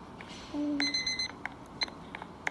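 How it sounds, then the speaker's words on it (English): Electronic alarm clock beeps in a Roblox game ring out: a sustained bright tone followed by short, scattered bleeps over a soft background hiss. "Yeah, it's my alarm."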